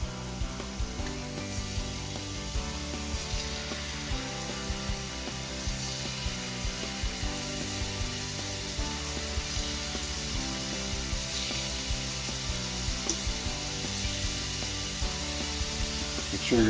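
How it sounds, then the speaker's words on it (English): Shrimp fry in hot oil in an uncrowded pan, a steady, even sizzle and crackle that holds for the whole stretch with no voices over it. "Hear him sizzle?"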